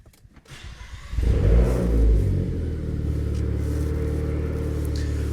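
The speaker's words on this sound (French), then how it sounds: "On démarre le moteur." A car engine starts up, with a short cranking whir and then a rising catch into a loud rev. It settles into a steady, close idle rumble that continues alone to the end.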